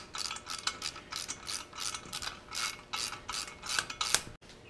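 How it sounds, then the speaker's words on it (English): An 18 mm socket on a ratchet backing out bolts while removing a receiver hitch, a quick run of close, crisp pawl clicks in rhythmic bursts, fairly faint, with no talking. "you need an 18 millimeter socket, and you just work these back until they come out"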